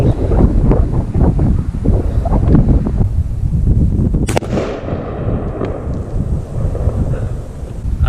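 A single sharp burst around the middle as an air rifle pellet ruptures a 2-liter pop bottle pressurized to 80 pounds of air, set against steady outdoor wind rumble.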